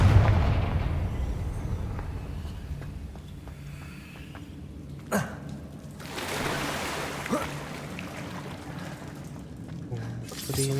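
In the Hogwarts Legacy video game, a Confringo spell explodes with a sharp blast near the middle of the clip, followed by a rumbling burst over quieter game ambience.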